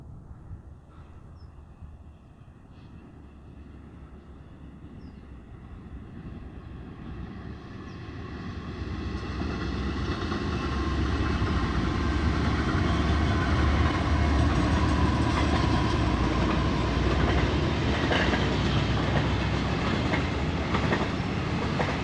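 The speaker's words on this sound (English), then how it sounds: "Here comes the train right now." A train rolls along the active modern railway through the desert ghost town of Ludlow, California, building from a distant rumble into a loud, steady roar with rhythmic rail clatter as it passes close by, with no talk.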